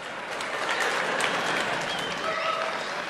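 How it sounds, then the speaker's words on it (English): A theatre audience at a live evening talk breaks into sustained, even applause, a full wash of clapping that holds steady from start to finish. "it's lovely to hear the applause"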